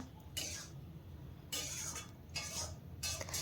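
Spinach is mixed with vegetables in a cooking pot, and a spoon scrapes and clinks against the pot in three or four quick, separate bursts of stirring, close and fairly quiet.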